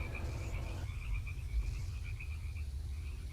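Night ambience of chirping crickets in the Second Life virtual world, a steady high-pitched trill pulsing continuously over a low background rumble for a few seconds.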